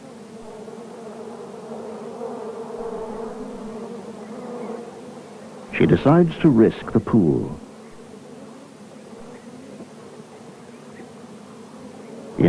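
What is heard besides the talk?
bees swarming around a water pit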